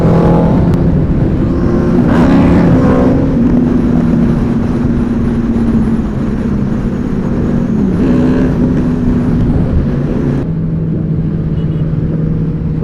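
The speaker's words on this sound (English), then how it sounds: "And here the rest of my bikers are coming." Group of superbikes, including Suzuki Hayabusas, riding past on the Buddh International race track, a loud continuous engine roar with rising and falling revs as machines pass close by, with no talking.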